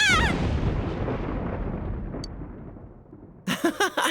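Thunder from a lightning strike in the Persona 4 Golden video game: a loud crack that rolls off into a long, fading rumble, followed by a short, bright game sound effect.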